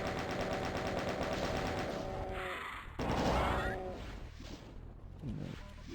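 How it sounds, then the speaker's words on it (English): Rapid machine-gun fire rattles in Doom, with bursts of gunshots and crashing impacts, and a short pause before further shots at a moderate distance. "Who's shooting at me over here?"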